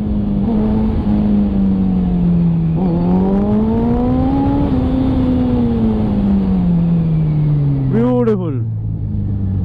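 A Suzuki Hayabusa motorcycle engine drones loudly and continuously during a ride, its pitch climbing and falling as the throttle is worked, with a brief sharp rev near the end before it settles lower.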